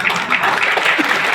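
Audience applause carries on in a continuous crowd clatter, with a voice talking over the clapping.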